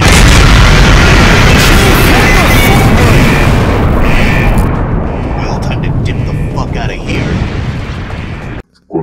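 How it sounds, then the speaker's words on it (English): A grenade explodes in Halo, a loud, roaring blast that fills several seconds before slowly thinning out. Voices speak over the rumble. "Tossed a grenade."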